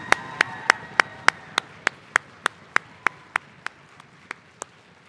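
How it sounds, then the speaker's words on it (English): Evenly spaced sharp claps, about fifteen over five seconds, from a small group at a winter school music night, steady and fairly close with little else around them. "let's give each other a round of applause"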